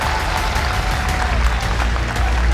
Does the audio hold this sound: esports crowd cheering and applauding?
yes